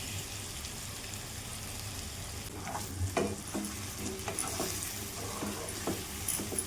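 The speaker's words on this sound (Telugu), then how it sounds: "ఈ మసాలాలన్నీ కర్రీకి పట్టేటట్టు మనం దీన్ని తిప్పుకుందామండి" Taro root curry with chili powder and spices stirred in a pan, a low steady sizzle with sharper spoon scrapes and clatters in the second half, close and alone.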